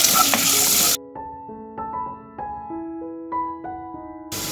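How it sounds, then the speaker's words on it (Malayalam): Onion, garlic and spices sizzle in ghee in a pan, a loud frying hiss in short bursts at the start and end with a quiet melodic passage between them. "ഇനി സവോളയും വെളുത്തുള്ളിയും മസാലകളും ചേർത്തിട്ട് ഒന്ന് വഴട്ടിയെടുക്കുക."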